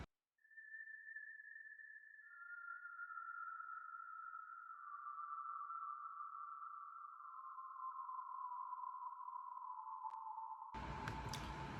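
High synth pluck tones with long reverb tails in an FL Studio melody, a few sustained sine-like notes stepping slightly lower and ringing out smoothly, ending in a short burst of noise.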